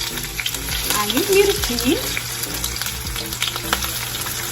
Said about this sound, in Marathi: सो आता मी फोडणी देणार.